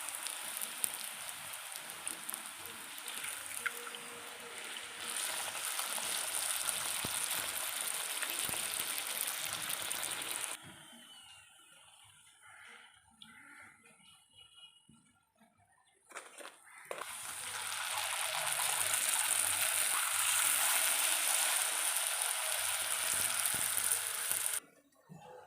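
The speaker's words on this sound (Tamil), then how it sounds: "அடுத்த பூரி போடும்போது கொஞ்சம் எண்ணெய் நல்லா காஞ்சதுக்கப்புறம் போடணும் நம்ம." Puri frying in hot oil crackles with a steady, rain-like sizzle, dips quieter for several seconds mid-way, then surges back loud and dense.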